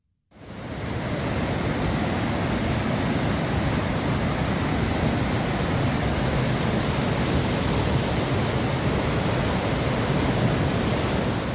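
The flooded Kallar river rushes steadily after a night of heavy rain, a loud, dense and unbroken roar of fast water with no voices.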